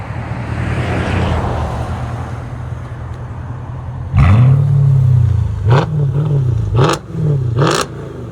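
A straight-piped 2007 Mercedes S550 5.5L V8 idles deep and throaty, then revs hard several times in quick bursts, loud and close, each blip rising and settling back to a rumbling idle.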